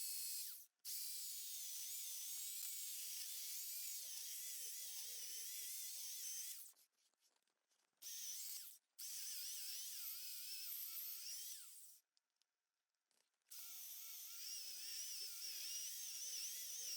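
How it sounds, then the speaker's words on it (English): Power saw cutting a green wood log lengthwise down the pith, a faint high whining buzz running in long sustained passes broken by a few short pauses, with no talking. "So we're going to cut this piece down the middle, straight down the pith"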